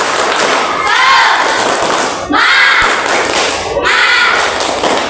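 Schoolchildren in a classroom doing the rhythmic 'tepuk semangat' spirit clap, loud close bursts of unison clapping and chanting voices in three repeated phrases separated by brief pauses.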